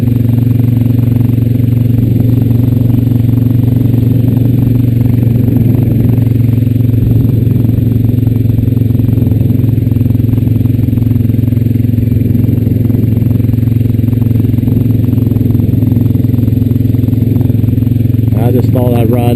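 Honda Rancher 420AT ATV four-wheeler engine running steadily while riding, a loud continuous low drone with clattery mechanical noise throughout.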